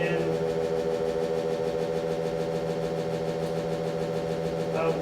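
An electric motor runs in a regenerative acceleration demo while recharging its batteries, putting out a steady, even hum with layered tonal whine and no change in pace, at low level with no speech.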